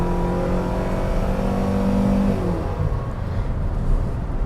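A 2021 Hyundai Venue with a CVT accelerating hard onto a highway, a loud, steady droning engine note heard from the cabin that holds and then fades into broad road and wind roar.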